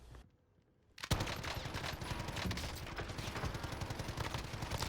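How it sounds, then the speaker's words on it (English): Light machine gun in the Warzone video game firing a long sustained burst after a second of near silence, dense rapid shots continuing loud and steady to the end with no talk. "I got to fire off a lot of bullets"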